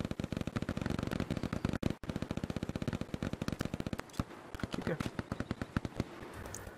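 Enemy MG fire in Hell Let Loose during a fight at the Carentan causeway, a long rapid stream of fast automatic shots that thins into scattered distant bursts, with voices talking over it.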